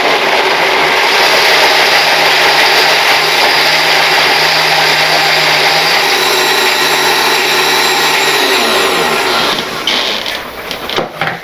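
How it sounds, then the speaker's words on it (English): A food blender runs loud and steady, pureeing ingredients for butter chicken in a home kitchen; the whirring motor holds an even drone, then changes pitch and sputters before winding down near the end. "We got this in the blender."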